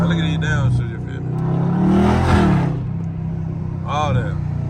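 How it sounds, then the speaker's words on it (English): A Dodge SRT in track mode downshifting, its engine rumbling close by and surging in a brief rev blip midway before settling back, with a voice talking over it. "look at these downshifts"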